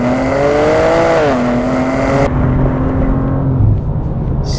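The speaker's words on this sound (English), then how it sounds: "You've got a great combination of engine noise and exhaust note." The engine and exhaust note of a new manual BMW M2 sounds loud and close inside the cabin, revs climbing then dropping at a shift before settling into a steady drone, with no talk.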